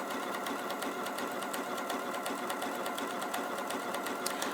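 An Elna 720 PRO sewing machine stitches quickly and steadily, a fast, even mechanical whir with rapid needle ticks running continuously at close range, no talk over it.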